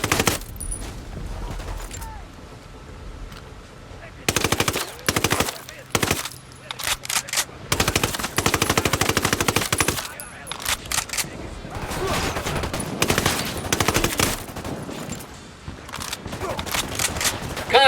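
Heavy automatic gunfire rattles in repeated bursts during a video game shootout at a warehouse, loud and close, with pauses between volleys and scattered voices under the shooting.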